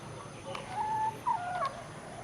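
Naked-neck chickens on a free-range egg farm in Pa Phayom district cluck and croon softly in short broken calls over a steady outdoor background hiss, with no talking.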